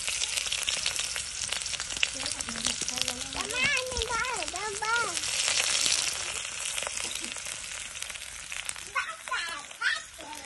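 Food frying in hot oil, crackling with a steady broadband sizzle throughout while children and adults talk and call out over it in a lively outdoor cooking scene.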